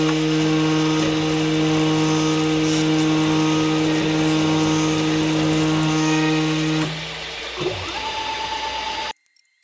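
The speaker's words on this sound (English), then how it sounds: "And now to ream." Power tool reaming a hole in metal in a workshop, a loud steady whining drone that holds for most of the clip, then spins down with a brief clatter before cutting off.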